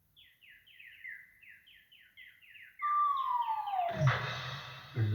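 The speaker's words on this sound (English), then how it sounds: "Then the birds came and dropped feathers on them." Repeated bright bird chirps in quick rhythmic bursts, then a louder sweeping call with a thump and rustle near the end.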